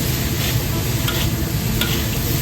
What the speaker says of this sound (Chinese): 全部调料翻炒均匀后